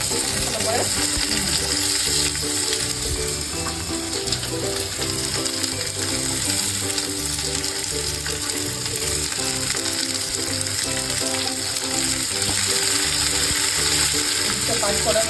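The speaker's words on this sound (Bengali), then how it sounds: "এরপর আমি পেঁয়াজ দিচ্ছি। এরপরে যাবে কুচনো পেঁয়াজ।" Chopped onions frying in hot oil for a samosa filling give a dense, steady sizzle that runs without pause, loud and close, with faint clinks and scrapes in the background.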